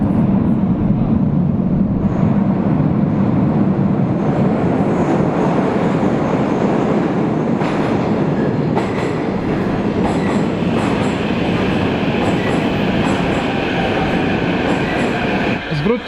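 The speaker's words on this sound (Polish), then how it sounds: "A tam przyjeżdża metro." Metro train pulling into Teatralna station in Kyiv, a deep underground platform: a steady loud rumble of wheels and carriages builds and holds throughout, with faint squeals and clatter, and a voice briefly audible in the background.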